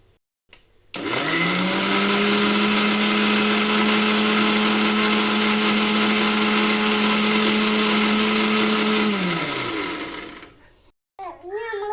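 A mixer grinder whirs up to a loud, steady hum as it blends mango in its jar, runs evenly for about nine seconds, then winds down and stops.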